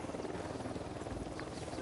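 Helicopter rotor thrum from a video game, a steady low chopping drone holding at moderate level throughout, with no other sounds standing out.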